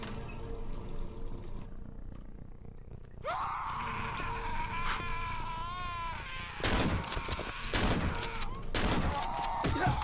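Shotgun blasts in the horror video game Cry of Fear, several loud close shots in a quick cluster near the end, preceded by a wavering creature-like cry over ambient game noise.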